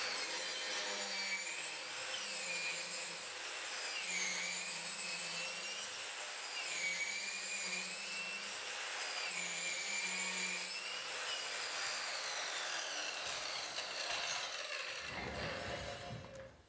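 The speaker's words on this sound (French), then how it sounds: "nous scions le tuyau en vitesse réelle" A saw cuts through a pipe in steady back-and-forth strokes, a rasping rhythm repeating evenly before stopping near the end.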